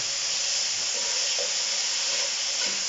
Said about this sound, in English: Taking the lid off the cooker.